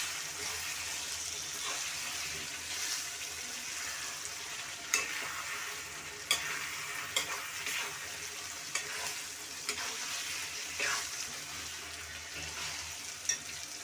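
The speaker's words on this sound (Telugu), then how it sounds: "ఇప్పుడు చికెన్ అయితే వేసేద్దాం. చికెన్ అయితే బాగా వేయించేద్దాం." Chicken pieces for Andhra-style chicken curry sizzle steadily in a hot pan after ginger paste, with a continuous frying hiss and periodic scrapes and clinks of stirring.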